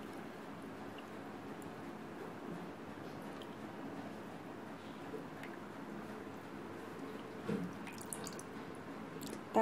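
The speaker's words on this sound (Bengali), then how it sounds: "তো এই তো একবার ছেঁকে নিলাম, আরও একবার ছেঁকে নিব।" Powdered milk pudding mixture of milk and egg strained through a sieve, a soft steady trickle and drip of liquid running continuously at close range, with a few faint clinks near the end.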